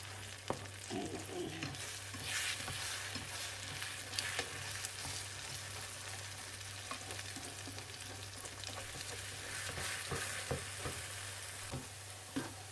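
Beaten eggs for a Thai omelette with chili, fish sauce and basil sizzle and crackle in a frying pan, a soft, continuous frying hiss broken by occasional stirring scrapes, with no voices.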